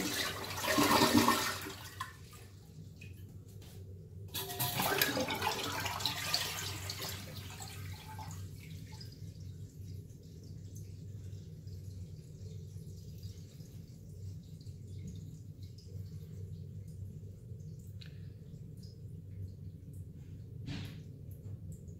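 A household toilet with a noisy flush is flushed up close, a loud rushing surge in the opening seconds followed by a second burst, then a long, quieter refill hiss and trickle running steadily to the end with a few faint clunks.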